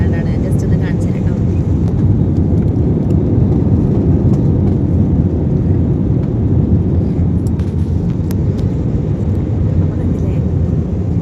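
A steady, loud, broadband roar fills an airplane cabin during flight, continuous and unchanging, with a person talking over it.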